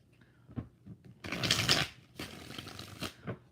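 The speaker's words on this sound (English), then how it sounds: "6 shuffles for Nick." A deck of tarot cards is shuffled in two quick riffle bursts, crisp fluttering rattles close by with brief pauses and light handling between them.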